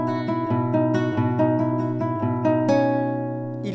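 A capoed classical-style guitar plays part of a piece with the bass moved to the fifth string, sounding a close, clear run of plucked arpeggiated notes with a sustained ringing tone and no voices.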